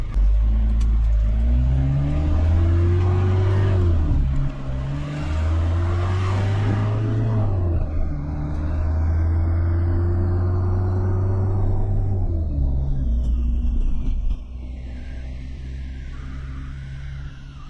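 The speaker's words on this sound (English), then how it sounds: "Engine sounds a lot smoother with the oil change." A 1992 Nissan Atlas 100 truck's TD23 diesel engine idles after an oil change with fresh oil, a loud, steady rumble with a couple of small rises and falls in engine speed, heard alone and up close.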